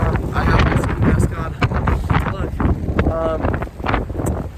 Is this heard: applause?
no